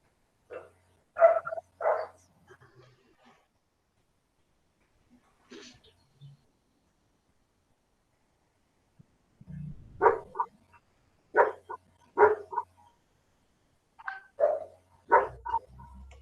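A dog barks in several short sharp bursts, first a trio of yaps and then a longer run of repeated barks, fairly close and clear against a quiet room, with a low thump and brief rustling between.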